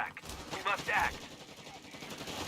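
MG42 machine gun fire in a Company of Heroes 3 match, a rapid rattling burst mixed into busy battle noise, at moderate distance, with a voice talking over it.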